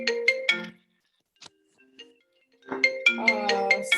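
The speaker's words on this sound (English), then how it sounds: "The cell phone just goes off." A cell phone ringtone goes off indoors during a presentation, with two bursts of bright melodic tones, a short quiet gap, then the ring resuming louder and longer.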